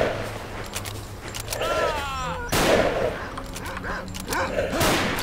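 A bandit fires a gun in the video game S.T.A.L.K.E.R. Call of Pripyat, Misery 2.1 mod, several sharp shots spaced irregularly over a rumbling background, with dogs yelping in between.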